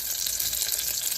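Steak dropped into reused fish-frying grease gives a loud, steady sizzle and crackle, dense hiss filling the whole moment with no talk.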